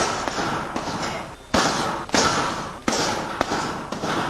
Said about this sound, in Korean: 그가 샌드백을 치는 소리를 들어보면